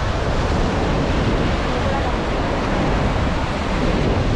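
Waves roll onto the beach at Puerto Colombia, a loud, unbroken roar of surf mixed with heavy wind buffeting the microphone.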